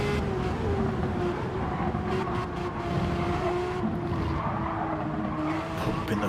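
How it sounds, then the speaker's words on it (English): Porsche 911 GT3 RS engine in a racing game league on the Daytona infield circuit, throttle pumped through a chicane, a steady loud revving drone with wavering pitch and tire noise throughout. "Pumping the throttle on the way through there."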